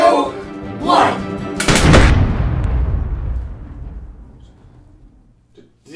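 A single loud, booming blast from a blunderbuss in a video game standoff, with a long rumbling decay. Voices are heard just before the shot.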